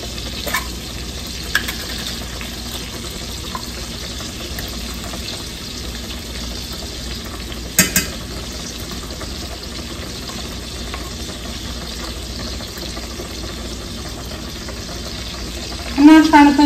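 Minced garlic sizzles in a pan for garlic shrimp pasta, a steady soft frying hiss running throughout with occasional stirring clinks, and a voice briefly heard near the end.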